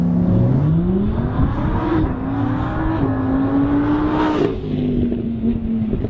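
Lamborghini Huracan LP 610-4 engine revving loudly and continuously up and down, with rising and falling engine pitch through several gear changes and no talk.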